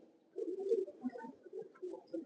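Pigeons coo softly and repeatedly, a few low throaty calls overlapping one another at close range in a quiet setting.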